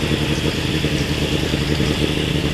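A Suzuki 1200 Bandit motorcycle engine runs steadily during carburetor synchronization, a close, loud, continuous rumble with a fast even pulse and light mechanical clatter.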